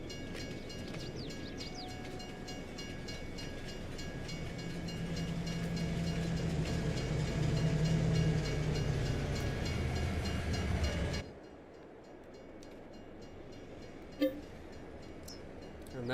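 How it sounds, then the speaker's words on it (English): A train rolls past in the Farming Simulator video game, a steady rumbling clatter building for about eleven seconds before cutting off abruptly, leaving quieter ambience with a brief click near the end; no talking. "train's coming back, guys."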